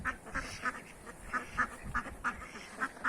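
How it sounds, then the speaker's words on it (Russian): Domestic ducks quack in a rapid series of loud, nasal calls, with several birds overlapping close by and steady wind noise behind them. "А, утки, ну пошли бы домой."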